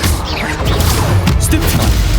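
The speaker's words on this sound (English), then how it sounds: "Incendio." The Incendio fire spell is cast in combat in the Hogwarts Legacy video game, a loud, dense blast of magical whooshing and crackling impact layered over continuous battle noise and game music throughout.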